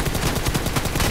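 Rapid gunfire from a PUBG Mobile match, a dense burst of repeated shots rattling continuously and loudly for about a second with no pauses.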